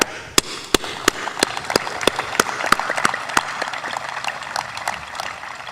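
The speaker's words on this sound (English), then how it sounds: "We must applaud you for that." Scattered, sharp hand claps ring out at a graduation ceremony, irregular and fairly close, a handful of individual claps over a soft room murmur rather than a full ovation.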